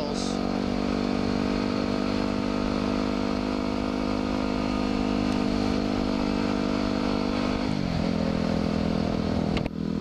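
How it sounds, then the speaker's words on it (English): A motorized bicycle's small engine drones steadily while riding, a loud, close, continuous buzz that briefly dips in pitch near the end. "I hate riding my motorized bicycle past people who have feet-powered bicycles."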